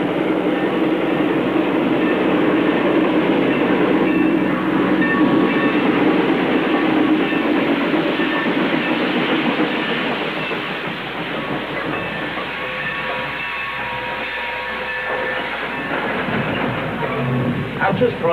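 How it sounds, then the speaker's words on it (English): A train runs steadily along the tracks in a loud, continuous rumble with rhythmic rail clatter and hiss, softening somewhat in the second half. "And John's on the train."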